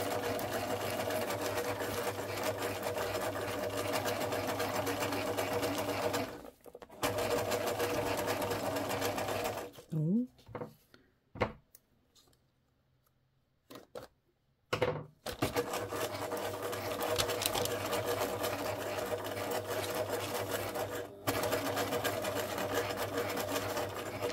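A sewing machine stitches circles along the edge of journal paper pages in long, steady close-up runs, broken midway by a pause full of paper rustling and handling clicks before the stitching resumes.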